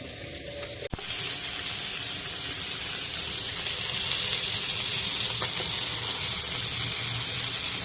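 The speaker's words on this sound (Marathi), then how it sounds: "मीडियम फ्लेमवर चार ते पाच मिनटं फ्राय करायला ठेवून देऊया" Khrabi fish fries in hot oil on a medium gas flame, a steady, close sizzle that runs unbroken after a brief knock near the start.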